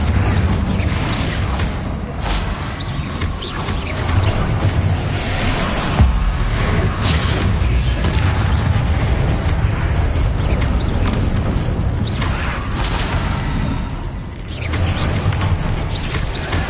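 Bombarda and Confringo spell curses in Hogwarts Legacy on PS5 burst into dense, continuous explosive booms and whooshes, a loud, thick wall of battle noise with no pauses.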